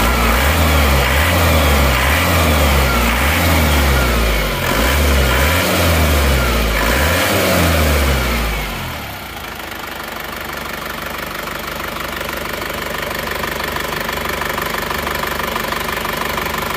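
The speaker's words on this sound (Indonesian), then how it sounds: "Suara mesinnya seperti ini" An Isuzu Panther L 1740 diesel engine idles close by with a steady, even clatter, first deep and rhythmic with a low throb, then shifting to a smoother, higher running hum that continues to the end.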